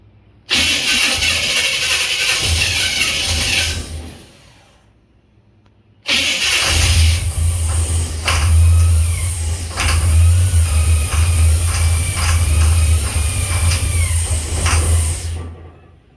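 A carburetor-fed engine, primed with a little fuel, cranks and catches, stalls briefly, then fires again and runs loud and rough with rising revs, close and alone.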